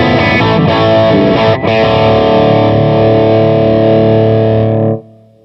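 Dirty, overdriven electric guitar blended in parallel through a GigRig Wetter Box, ringing out as one loud sustained chord with a quick re-strike, then cut off cleanly near the end.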